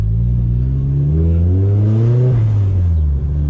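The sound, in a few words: Nissan S15 Silvia manual car accelerating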